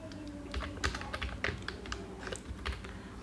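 Close, rapid typing on a computer keyboard fills the moment with a quick run of irregular key clicks and taps, steady and fairly soft, with no talking.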